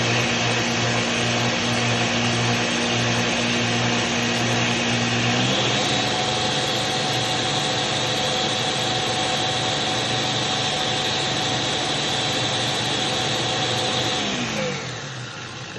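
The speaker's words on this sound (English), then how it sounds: "this is the greatest blender ever, I have to tell you. And then I'm going to turn it on." A blender motor whirs steadily at close range on a low setting, shifting pitch partway through, then winding down at the very end.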